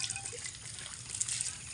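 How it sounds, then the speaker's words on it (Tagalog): A faint, steady trickle of running water pours continuously, soft and hissy, with no voices. "Nafugasan naman ng tubig"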